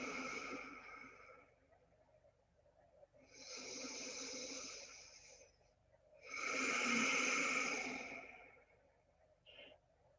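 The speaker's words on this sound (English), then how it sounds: "Reconnecting to the sound of your breath." Slow, deep breaths during a yoga practice, three long audible exhales with loud raspy breathing, close and alone with no talking.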